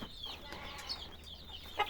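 A broody hen sitting on eggs clucks softly and repeatedly nearby, with some chirpy, higher calls mixed in.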